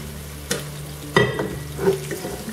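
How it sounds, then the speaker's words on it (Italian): Steady sizzling of sardines frying in a pan, with a few scraping stir sounds on top. "Dobbiamo andare a friggere il pesce."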